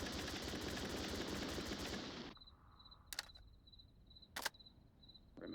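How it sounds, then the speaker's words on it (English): Gunfire in the VR shooter Onward during a night match, a dense automatic burst for about two seconds, then quiet with two sharp isolated shots and a faint high tone. "Marksman also takes shots towards outside door."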